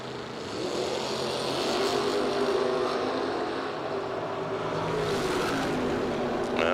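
Drag racing cars, including a Camaro, accelerate hard down the strip at an IHRA Summit Racing SuperSeries event, a loud sustained engine roar that swells and holds, with a rising whine near the end and no voices.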